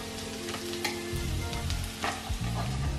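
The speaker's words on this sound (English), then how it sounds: "so we are now adding the Worcestershire sauce" A frying pan of pork with tomato sizzles loudly as Worcestershire sauce is added, a continuous hiss broken by irregular scraping and stirring knocks close by.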